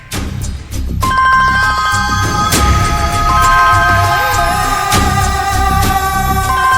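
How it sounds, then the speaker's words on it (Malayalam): A telephone rings with an incoming call, a loud, steady, repeating ringtone with no talk over it. "ഇങ്ങനൊരു വിളി ഞാൻ പ്രതീക്ഷിച്ചതാണ്. ഫോൺ എടുക്ക്."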